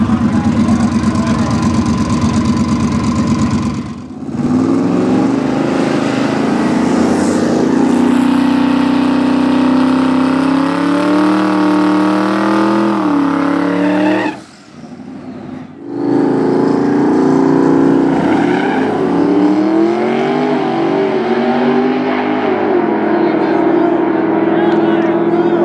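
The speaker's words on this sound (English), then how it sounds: "Turbo Mustang versus Tim's Corvette." A turbocharged Mustang and a Corvette launch side by side at a Tucson drag strip. Loud engines idle and rev, then roar off the line together. After a brief drop in sound, more engine roaring follows, with a voice talking faintly underneath.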